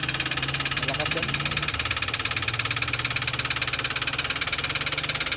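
A Toyota Wigo engine with a damaged connecting rod runs rough and loud nearby, a steady rhythmic knocking idle pulsing throughout, while voices talk over it.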